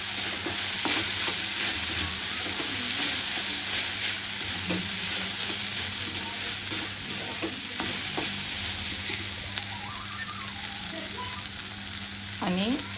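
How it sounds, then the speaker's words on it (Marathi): Okra frying in a pan with turmeric and salt, stirred continuously: a loud, constant sizzle with repeated scraping strokes of a spoon against the pan. "चवीनुसार मीठ ॲड करा। मस्तपैकी त्याला हलवून घ्या।"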